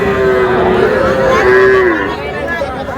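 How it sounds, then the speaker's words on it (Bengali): Sahiwal cattle on a farm in Barisal, Bangladesh, moo in a long, loud, drawn-out call that wavers in pitch across the clip, with faint background chatter from people nearby. "আচ্ছা ইমরান ভাই, আপনি একটু গরুগুলো আমাদের দেখান।"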